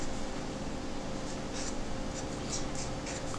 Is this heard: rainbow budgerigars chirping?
no